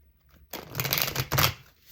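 A stiff traditional deck of cards is shuffled close up, two quick riffling bursts following a short quiet pause, crisp and papery with no speech.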